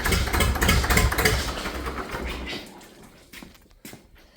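Farmall 650 tractor engine running with a leaking hydraulic line, a loud close rumbling idle that fades toward the end, with some splashing noise.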